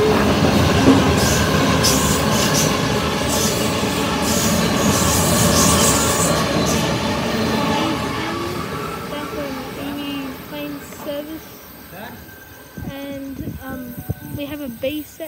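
A Sydney Trains B set passenger train rumbles past nearby at Harris Park with a broad, steady roar and rail noise, fading toward the end as faint squealing wheels linger; a voice talks over it.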